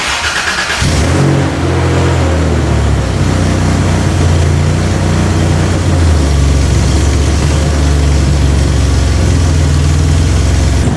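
A Toyota 3.4L engine swapped into a vehicle cranks and fires up, then settles into a loud, rough, steady idle that continues close by without any talk.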